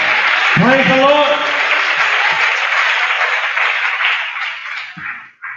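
Audience applause at a Catholic versus Pentecostal church debate, a sustained wash of clapping that runs steadily from start to finish and fades at the end, with a voice speaking briefly over it near the start.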